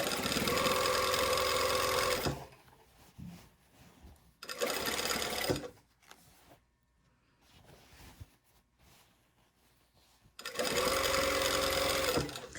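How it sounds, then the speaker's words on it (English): A sewing machine stitches a stretch dress lining in two loud, steady bursts of rapid mechanical whirring, separated by a long quieter gap of handling and faint shuffling. "I'm sewing with the lining down"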